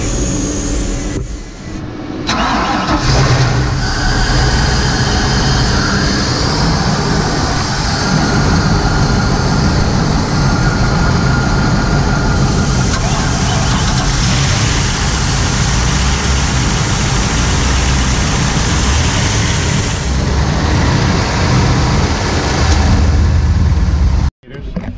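Twin engines of a 1993 Wellcraft Scarab 31 Thunder powerboat start and run, a loud continuous low rumble that fills the whole span with steady power and a brief cut near the end, with voices partly buried under it.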